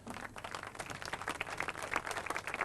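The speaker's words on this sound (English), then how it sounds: "Nice round of applause for the two gentlemen on stage" An audience applauding two men on stage at a clay-shooting cup presentation, a steady patter of many hands clapping, fairly faint and distant.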